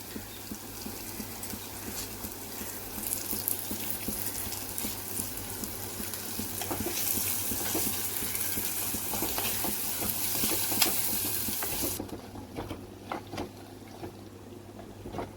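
Ginger fries in a pan for a cucumber and prawn curry, with a steady sizzle and stirring scrapes heard close up and no talk.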